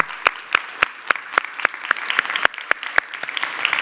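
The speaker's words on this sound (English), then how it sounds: "Please stand up and let's give them a big and huge applause." Steady, evenly spaced claps from a conference audience repeat at a brisk rhythm, sharp and fairly close, with no voices or cheering.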